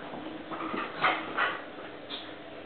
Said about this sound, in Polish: Chodź ty chaotyczny psie.